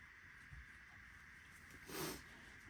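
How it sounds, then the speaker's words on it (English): A single faint sniff or snort near the end, a quick breathy intake against quiet background hiss. "Pardon my sniffles."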